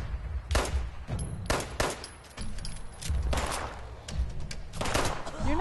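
Repeated gunfire aimed at the player in Fallout 76, bursts of sharp cracks coming in uneven volleys at moderate distance, with a voice speaking between them.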